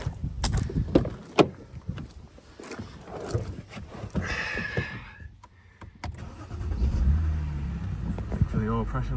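A high-mileage BMW 325i with the N52-B25 engine cranks and starts after an oil and filter change, followed by a low idle under scattered clunks and some nearby talking.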